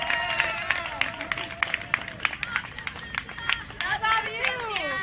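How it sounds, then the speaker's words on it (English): Audience applause at a Code Pink Mother's Day event: steady crowd clapping fills the clip while a voice keeps speaking over it. "So give a big, big hand to Cynthia Benjamin"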